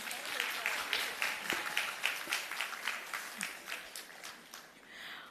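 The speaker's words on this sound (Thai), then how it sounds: "หนูขอเสียงปรบมือให้พี่ๆ ทุกคนด้วยได้ไหมคะ" An audience at the Miss Grand Mukdahan 2024 farewell pageant applauds the backstage crew with a run of fairly distant, steady claps that thin out toward the end, while someone talks over them.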